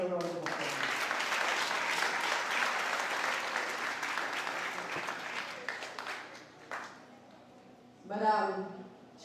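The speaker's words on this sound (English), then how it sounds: "another round of applause" Dense, sustained applause from the crowd at a primary and infant school leaving ceremony fills the room for several seconds, then fades out, and a speaker's voice follows.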